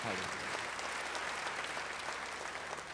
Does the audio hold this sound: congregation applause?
yes